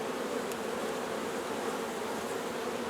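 Honey bees swarm around an open double-deep eight-frame honey-bound hive during a frame inspection, making a dense, steady, close buzzing hum with no pauses and no talking.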